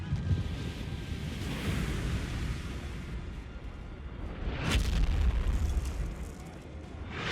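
Canister shot artillery fire in a Total War–style battle game, heard as deep rumbling booms with a louder blast rolling in near the midpoint over steady low battlefield noise.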